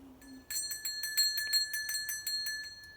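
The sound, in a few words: an old hand bell being rung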